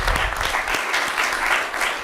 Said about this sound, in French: On l'applaudit encore une fois de plus.